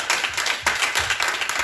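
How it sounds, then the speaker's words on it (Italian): Churchgoers clap loudly and quickly during a worship service, close and uneven bursts of clapping with a few sharper individual claps. "Fai un forte applauso allo Spirito Santo"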